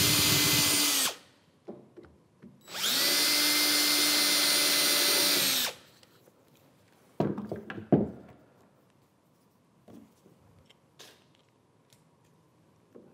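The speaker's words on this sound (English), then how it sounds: "I'm going to drill in here." A power drill bores a pilot hole into workbench wood in two loud, sustained whirring bursts with a short pause between them, followed by quieter clunks, taps and handling noises.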